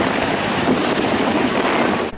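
Strong storm wind roars at the Silivri harbor where fishing boats are moored, a loud continuous rush of wind buffeting the microphone with surf and waves underneath.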